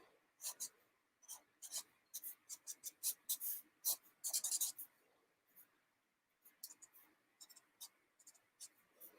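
A pen scratching out a quick comic thumbnail sketch on paper, with bursts of short strokes in an irregular rhythm, close and soft, broken by a brief pause partway through.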